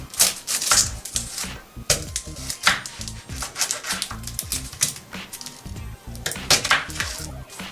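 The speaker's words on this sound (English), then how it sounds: "Now we are going to start our recipe by chopping this one medium onion." A knife chopping a medium onion on a cutting board, loud close rhythmic knocks of the blade repeating steadily and quickly, no talking.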